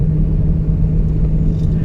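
A 2008 BMW E90 M3 engine pulls under acceleration, a steady, loud, low rumbling drone heard from inside the car with no break.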